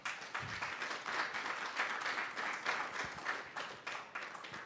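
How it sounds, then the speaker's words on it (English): A small audience claps for panelists at a campus career panel, a moderate, steady patter of hands with uneven pulses, close and unaccompanied by talk. "Can I get a round of applause for our panelists?"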